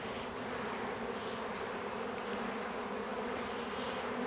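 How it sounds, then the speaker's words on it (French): Honeybees swarm and buzz in a loud, steady drone as they are brushed off a beehive frame, the dense hum continuous and close throughout with no voices. "Il faut que je balaye les abeilles aussi."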